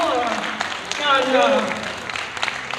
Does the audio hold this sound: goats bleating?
no